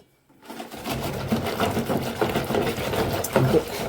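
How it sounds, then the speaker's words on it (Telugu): A milk mixture for junnu churned by hand, giving a steady, close, rhythmic whirring and sloshing that starts after a brief silence and runs on without pause. "దీన్ని ఇంకొంచెం చిలుక్కుందాం"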